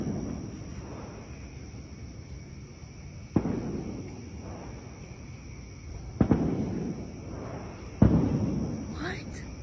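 Faint, distant booms of fireworks go off a few times, sharp pops spaced seconds apart over a low outdoor background hum.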